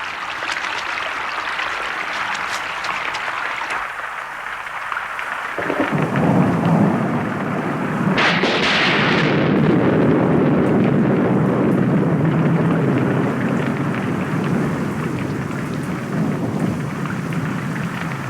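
Steady heavy rain pours throughout, broken midway by a loud rolling crack of thunder that rumbles on beneath the downpour.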